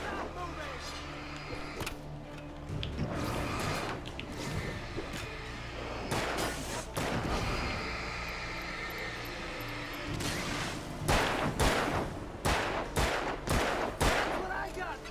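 Rapid bursts of video game gunfire from Alan Wake, sharp cracks in irregular clusters over a dense in-game soundscape, with a voice talking through parts of it.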